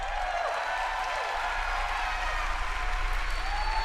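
A large audience claps and cheers steadily at the Bethesda E3 2019 showcase, a dense, sustained wash of applause filling the hall with faint music underneath.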